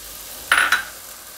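Boiled peas are stirred into a tomato vegetable gravy for a Gujarati mixed-veg shaak, heard as a brief pair of scraping, clinking spoon strokes against the pan in an otherwise quiet moment.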